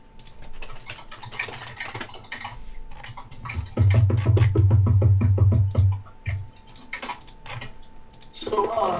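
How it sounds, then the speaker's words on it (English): Loud typing on a computer keyboard comes in uneven bursts of sharp, close key clicks, with a low droning hum swelling in the middle and a voice briefly audible near the end. "I'm sorry about the loud typing, guys"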